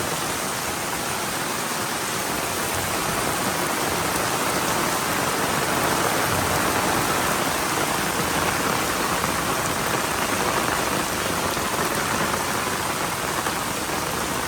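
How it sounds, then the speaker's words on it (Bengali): Heavy rain pours down in Chittagong amid deep standing floodwater, a dense, unbroken hiss of drops drumming on surfaces that stays loud and even throughout. "বৃষ্টি, শুধু বৃষ্টি আর বৃষ্টি।"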